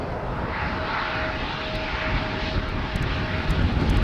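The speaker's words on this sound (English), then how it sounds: "I can hear that the Embraer is taxiing onto the runway to the right of me" An Embraer airliner taxiing onto the runway at Schiphol Airport gives a steady, continuous engine roar with a thin whine, moderately close and building slightly toward the end, with no talk over it.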